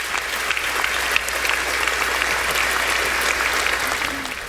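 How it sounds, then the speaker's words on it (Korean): Sustained applause in the U.S. House chamber for a congressman returning after being shot, a dense, continuous roar of many hands clapping at a steady level throughout. "박수가 끊임없이 이어졌습니다."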